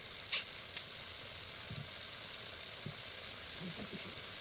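Potato fry with tomato in a pan, a steady hiss of sizzling oil with a couple of faint spatula clicks and soft stirring scrapes, close but quiet.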